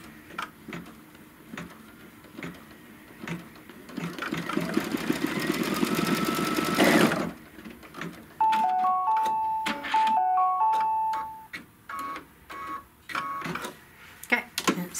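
Computerized embroidery machine running a tack-down stitch on a paisley belt bag, a dense mechanical whir that builds for a few seconds and then stops abruptly, followed by scattered clicks and short electronic beeps.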